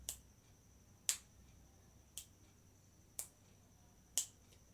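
Five sharp finger snaps, evenly spaced about a second apart, ring out crisp and close against a quiet background.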